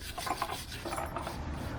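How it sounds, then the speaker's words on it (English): A wire brush scrubbing a Honda brake pad bracket, continuous close scratchy rubbing strokes at low level, heard alone. "use a wire brush to just kind of clean those a little bit"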